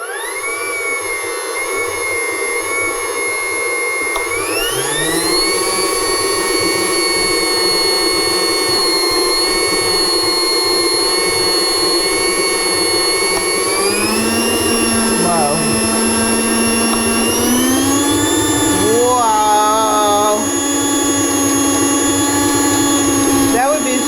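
A Hobart HL6 stand mixer motor whines at a high pitch, stepping up in speed several times while people talk over it.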